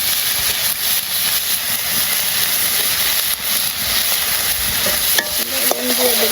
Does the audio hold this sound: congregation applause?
no